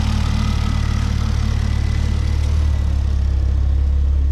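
A Ford Focus ST fitted with a hybrid turbo idles steadily while warming up, giving a close, even low drone with a constant mechanical hum and no talking.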